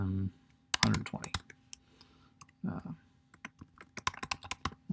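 Clicky keystrokes on a computer keyboard while Arduino code is entered, irregular bursts of close taps with a voice talking between them.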